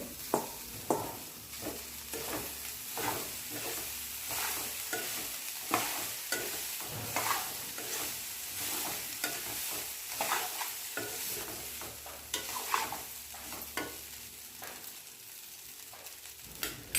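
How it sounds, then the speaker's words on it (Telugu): Cooked rice being stirred into cooked, salted carrots in a pan for carrot rice, with steady close scraping and clinking strokes of a spoon over a gentle sizzle. "ఇప్పుడు అన్నం వేసుకొని అంతా కలుపుకోవాలి"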